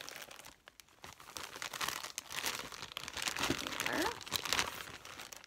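Crinkling plastic packaging around a short human hair wig, handled close up in irregular rustling bursts over several seconds, with a brief spoken word.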